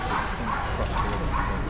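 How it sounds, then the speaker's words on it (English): A Border Collie working through weave poles, a tunnel and a dog walk on an agility course at a large team competition, with faint yips and whimpers under constant commentary and arena noise. "from Lynn and Lexi, the Border Collie."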